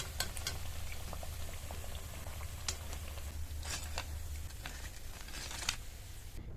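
Semolina snacks frying in oil give off a close, steady sizzle and bubbling, broken by scattered sharp pops and crackles throughout, with no voices.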